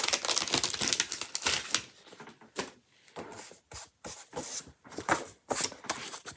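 Chalk Couture transfer sheet being opened and cut up at close range, a run of crisp crinkling, snipping and rubbing sounds in irregular bursts with short pauses, no voice.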